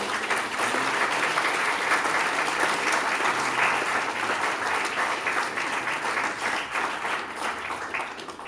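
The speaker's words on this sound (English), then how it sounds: "as you're giving a round of applause to all of our speakers" Sustained audience applause after speakers at a panel presentation on Earth viewed from space, a dense steady wash of many hands clapping that holds loud and even for the whole stretch with no talking.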